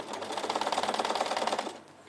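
A small domestic sewing machine stitches fabric for a baby frock in a fast, even rhythmic chatter for under two seconds, then stops.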